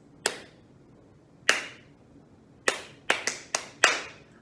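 A pair of hands claps a sparse rhythm close by: two spaced claps, then a quicker cluster of five, each crisp and separate with a brief room ring, alone with no talk.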